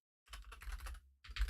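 Rapid clicking keystrokes on a computer keyboard during a Valorant coaching session, a close, dense burst of taps that stops briefly before a final cluster resumes.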